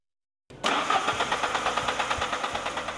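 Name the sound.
car engine cranking and starting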